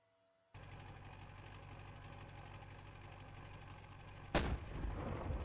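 Tank cannon fire in a combat video game: after a brief quiet start, a steady engine rumble sets in, then one loud, sharp cannon blast lands near the end and its boom rolls on, with no voices.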